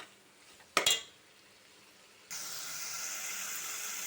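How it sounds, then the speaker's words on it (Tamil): Prawns go into a hot pan for a Tamil prawn curry with a sharp metallic clatter, then a steady loud sizzle starts after a short pause and keeps hissing without talk. "இறாலை போட்டு நல்லா வதக்கிக்குவோம்"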